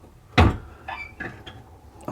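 A solid fuel stove door loaded with smokeless coal closes with one firm metallic clunk, followed by a few lighter clicks and rattles of the latch and handle.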